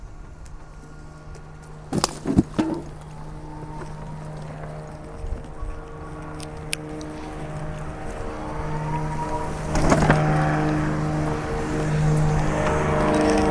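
A Permobil F3 power wheelchair with seat lift, tilt, recline and lights drives at high speed, its electric motor giving a steady hum that builds gradually, with a few sharp clicks and knocks early on.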